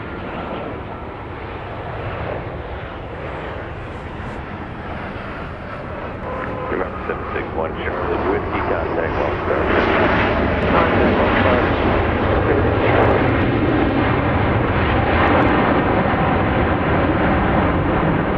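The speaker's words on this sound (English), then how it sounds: "Cessna T210N Turbo Centurion." A Cessna T210N Turbo Centurion single-engine propeller plane taking off at Dallas Love Field at night, its engine drone steady and broadband, swelling louder over the clip as it nears.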